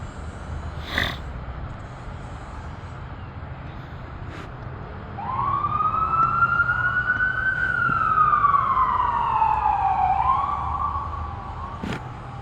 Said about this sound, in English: a lot of emergency vehicles going by